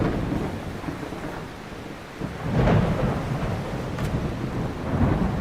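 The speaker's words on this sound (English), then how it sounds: "I can't even hear my thoughts because of this storm." Thunderstorm at sea in the video game Bannerlord War Sails: heavy rain hisses steadily while low rolling thunder swells and rumbles through, loud and enveloping with no voices.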